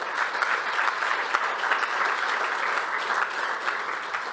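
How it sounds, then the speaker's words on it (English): A conference audience applauds at the closing session of the GLOBSEC Bratislava Forum 2022, a dense, steady wash of clapping from a large hall that holds an even level throughout, with no voices over it. "I think they deserve also a big applause for that."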